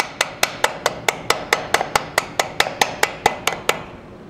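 A hammer taps repeatedly on gasket material to cut out bolt holes, producing about sixteen sharp, evenly spaced strikes at a brisk steady rhythm, each followed by a short ring, close and clear without speech.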